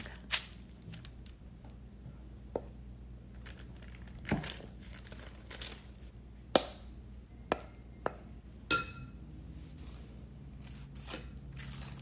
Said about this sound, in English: I'm going to spread it out onto parchment paper and roll it up into a log.